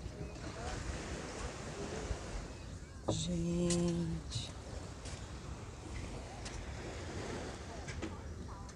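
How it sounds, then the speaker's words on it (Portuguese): Steady roar of sea waves breaking on the beach at Balneário Camboriú, constant wash heavy with wind noise on the microphone, a brief voice and a short tonal sound rising over it midway. "Vocês conseguem ouvir o som do mar ou não?"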